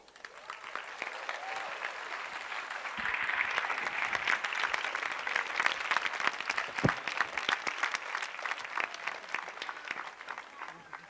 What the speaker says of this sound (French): ce sera un moment d'échange avec André Stern, que je vous remercie d'applaudir chaleureusement.